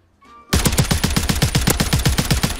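Rapid automatic gunfire from a sentry gun in a 1v1 video game round, a loud, steady stream of closely spaced shots that starts abruptly and continues without pause.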